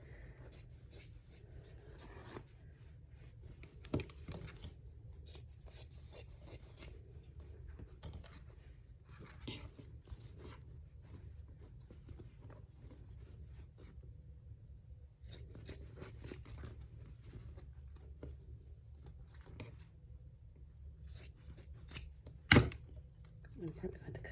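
Scissors snipping away cutaway embroidery stabilizer on the back of a Santa hat, with quiet, irregular clipping sounds spread through the clip and a sharper snip near the end.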